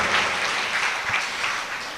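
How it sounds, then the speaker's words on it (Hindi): Steady applause from a crowd at a Shrimad Bhagwat religious gathering, welcoming two groups, a continuous wash of clapping heard at moderate distance for a couple of seconds. "एक बार जोरदार तालियों से इन दोनों मंडलों का स्वागत करें।"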